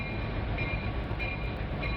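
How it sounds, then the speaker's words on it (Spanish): A long oil tank freight train of up to 118 loaded cars rolls steadily past a port terminal, with a continuous heavy rumble, a faint high tonal whine and no voices. "los trenes cisterna, con hasta 118 vagones cargados con petróleo, entran y salen de la terminal portuaria"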